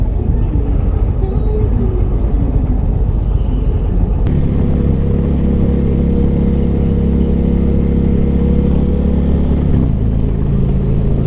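An Indian FTR 1200 motorcycle engine drones loudly while riding in sport mode, with steady wind roar and a shift to a deeper, stronger engine note partway through, heard close from the rider's position.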